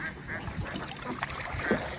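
Ducks caught from a wetland quack in a few short nasal bursts nearby, scattered over a quiet outdoor village background with no clear speech.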